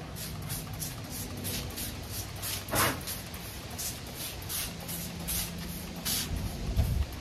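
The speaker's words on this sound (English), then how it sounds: "So we're going to take our insecticidal soap and spray it like crazy." Repeated short hissing sprays of insecticidal soap from a spray bottle onto houseplants, roughly evenly spaced, close up, over a background of breezy outdoor noise.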